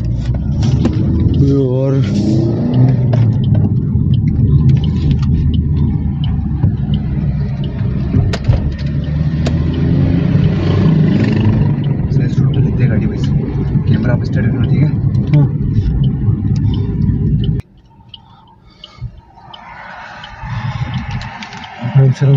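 Car driving at night on the NH-79 highway in Rajasthan, a loud steady engine and road drone with men chatting inside, then a sudden cut to quieter idling near the end.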